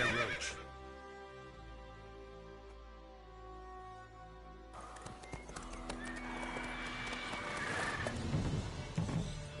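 Roach, Geralt's horse in the video game The Witcher, whinnies and snorts over steady clip-clopping hooves; the hoofbeats grow louder and busier partway through against a soft musical backdrop.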